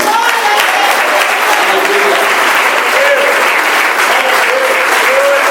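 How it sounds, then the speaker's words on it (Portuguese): A church congress congregation bursts into loud, sustained applause, many hands clapping continuously at full strength, with faint voices and brief cheers mixed into the crowd. "Você pode aplaudir ao Senhor"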